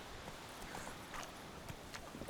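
Hooves of Roach, Geralt's horse in Witcher 3, clip-clopping at a slow walk, faint irregular thuds on the ground with quiet background ambience.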